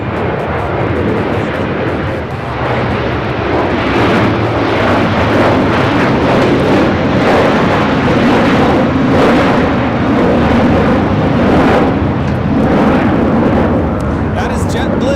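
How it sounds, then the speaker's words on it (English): A JetBlue Airbus A321 takes off at Los Angeles International Airport with a very loud, sustained, crackling jet roar that fills the scene, with a voice speaking over it. "That is JetBlue 1874 taking off to Newark on the A321."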